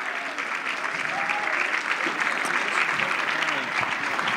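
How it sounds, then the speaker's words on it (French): Audience applause for children at a Christmas VIP gathering, dense clapping sustained from start to finish at a steady, moderately loud level. "Ou est-ce qu'on peut leur donner une bonne main d'acclamation?"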